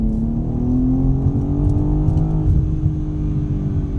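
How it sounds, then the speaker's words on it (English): BMW M3 accelerating hard while merging onto a road, a loud, close engine drone climbing steadily in pitch through the gears, with a slight dip partway through, heard from inside the car. "we're gonna do a little acceleration pull here. Merging on, see how it is. Traction kicking in."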